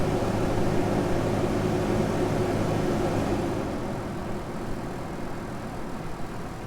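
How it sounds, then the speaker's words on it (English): Steady broadband whoosh of the air conditioning blowing in a 2002 Chevrolet Suburban 2500 with an 8.1L V8, loud and continuous, easing slightly partway through with a low engine hum underneath. "Hopefully the air conditioner's not too loud for y'all."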